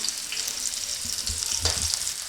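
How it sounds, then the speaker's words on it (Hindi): Halved small onions frying in hot oil give a steady, close crackling sizzle, with a brief burst of louder spitting near the end as the pieces settle; no voices. "अब हमने छोटे साइज का प्याज जो आधा काटा है इसमें डाल देते हैं और इसे फ्राई करना है।"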